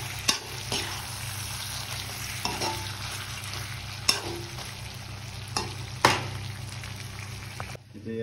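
Pork pieces frying in a pan for a banana flower curry, with a constant sizzle under repeated sharp stirring scrapes and clacks of a spatula against the pan. Nobody speaks.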